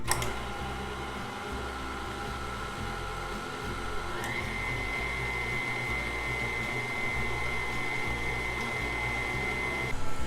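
A stand mixer whirs steadily as it beats focaccia bread batter into a loose, shaggy dough, a continuous even motor hum with a rising whine partway through, heard alone and close.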